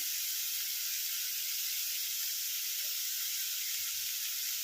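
Split green chillies and potatoes sizzle steadily in hot oil with onion for a Bengali fish-oil chochori, a continuous bright frying hiss running evenly throughout with no talk.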